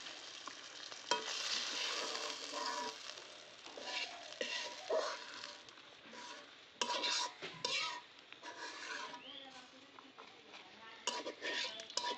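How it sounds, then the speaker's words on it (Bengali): Fish fries lightly in oil in a pan, a soft continuous sizzle mixed with clinks and scrapes of a utensil stirring against the pan, close but quiet. "তরকারির মধ্যে দেওয়ার জন্য মাছ ভাজা হালকাই ভালো।"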